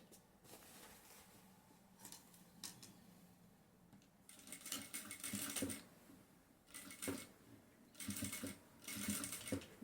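A sewing machine stitches a seam through a denim bag with its lining, several short bursts of quiet rapid clatter separated by pauses and handling sounds.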